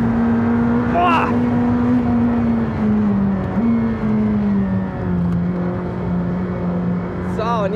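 McLaren Senna with 800 hp under full power on the Nordschleife, a loud sustained engine tone heard from inside the cabin as it pulls, with brief voices over it.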